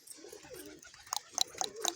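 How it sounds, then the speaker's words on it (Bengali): Pigeons perched on a raised loft coo in soft, low warbling phrases, heard close and fairly quiet, with a few sharper clicks and rustles in between. "চাঙে কিছু কবুতর বসে আছে এখন।"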